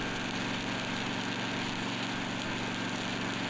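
Arc welding with a 7018 rod run uphill at 75 amps on a barn repair, a dense continuous crackling buzz held close and steady for the whole stretch, with a humming engine-like drone beneath.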